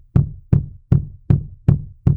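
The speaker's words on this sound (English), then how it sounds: "Anneliese began hearing a knocking sound in her room" Six sharp, hollow knocks at an even, unhurried pace, each a solid thud with a short decay, heard alone against silence.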